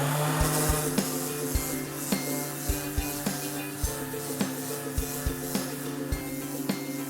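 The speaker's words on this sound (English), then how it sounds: "I would remove this 80 grit and stick on a piece of 50 grit and see what that does to this thicker paint." Thick bottom paint on a boat hull is sanded with 50 grit sandpaper, making a continuous close rasping scrape with regular stroke accents about every half second, with no talking.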